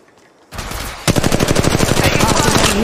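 Automatic gunfire in the mobile battle-royale shooter Apex Legends Mobile: after a short quiet lead-in, rapid evenly spaced shots start and rise into a loud, sustained burst that carries to the end.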